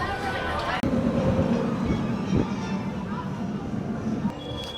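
A Penguin Trek ride car at SeaWorld Orlando rattles and vibrates with a steady rumbling clatter and a few sharp knocks, close and loud, with voices faintly underneath.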